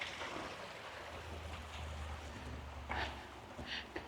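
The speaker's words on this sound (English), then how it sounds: "Sit and listen to the water." A small stream flows steadily near Keswick, a continuous soft rushing with a few brief louder splashes and knocks near the end.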